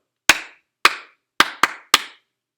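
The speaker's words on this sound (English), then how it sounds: "You count how many claps I make." Five crisp hand claps played as a rhythm, close and loud, with two quick claps bunched in the middle and even gaps around them, alone without voices.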